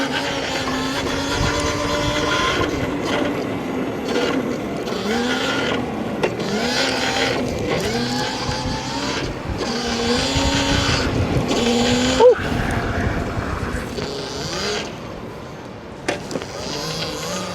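Electric dirt bike with stock street tires ridden through city streets while pulling wheelies, a steady whirring motor drone rising and falling with throttle under wind rush, continuous and close, with voice underneath at times.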